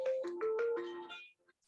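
A phone rings with a short melodic ringtone, a quick run of bright stepped notes over about a second that then cuts off, heard clearly in a quiet room during a class session.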